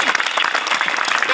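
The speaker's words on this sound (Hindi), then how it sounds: "तालियां बजा दीजिए।" Students at an institute event break into a short burst of loud, dense clapping that fills the whole moment.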